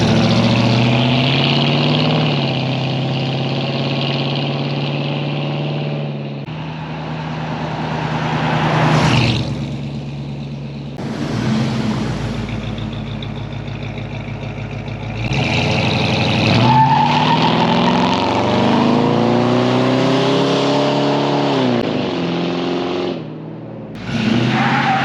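A Lincoln Mark VII LSC engine running as the car drives down the road, a loud, close, throaty drone that rises and falls as it revs up and eases off, with a strained screech partway through and no talking.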